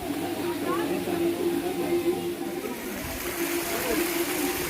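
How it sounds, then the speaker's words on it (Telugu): A waterfall beside a hillside temple at Alurukona Ranganayaka Swamy gives a steady, continuous rush of splashing water throughout, moderately loud, with people talking over it. "ఈ గుడి పక్కనే వాటర్ ఫాల్ ఉంది."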